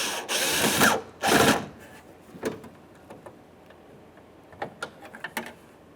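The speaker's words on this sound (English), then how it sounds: "Start in that Phillips head mounting screw." Phillips head mounting screw being driven and snugged into a door handle bracket on a 1994-2002 Dodge Ram 2500 truck door, with two loud bursts of driving followed by scattered light clicks and taps.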